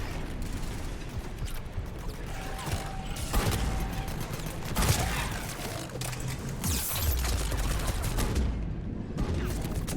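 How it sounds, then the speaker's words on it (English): Gunfire from a two-shot gun in Mass Effect 3, with several sharp loud bursts over steady game noise and ambient rumble across the clip. "Oh my god, it's a two-shot gun."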